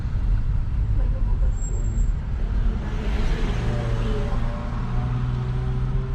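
Road traffic near a beach in Ras Al Khaimah, UAE, heard as a steady rumble of many passing cars with a heavier vehicle droning through, fairly loud and continuous, with people talking now and then.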